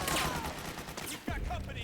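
Rapid gunfire from soldiers in Metal Gear Solid 4 crackles continuously as a dense, loud volley, with a sharper burst near the end and shouted voices mixed in.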